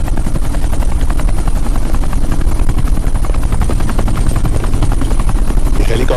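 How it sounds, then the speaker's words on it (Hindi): A helicopter approaches to land on an airport tarmac, its loud, steady rotor thump and turbine whine filling the whole stretch without letup. "ये हेलीकॉप्टर सीधे एयरपोर्ट के टारमैक पे लैंड होगा।"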